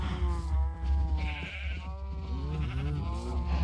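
Sheep bleating close by, several overlapping wavering calls in quick succession over a low rumbling background.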